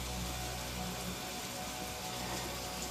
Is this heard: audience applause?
no